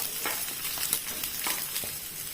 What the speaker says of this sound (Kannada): ಎಲ್ಲ ಒಂದು ಸ್ವಲ್ಪ ಕೆಂಪಗಾಗೋ ತನಕ ನಾವು ಇದನ್ನು ಫ್ರೈ ಮಾಡುವ.